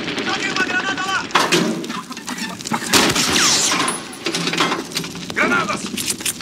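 Gunfire crackles through a World War II combat mission in a Saving Private Ryan video game, bursts of shots rising and falling under shouted commands from soldiers throughout.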